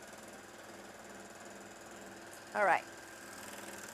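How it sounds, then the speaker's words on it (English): A Juki MO-1000 serger running to stitch out leftover threads, giving a faint, steady mechanical whirr with rapid regular pulsing, briefly interrupted by someone speaking. "Let me get rid of these threads that were in here just by stitching them out a little."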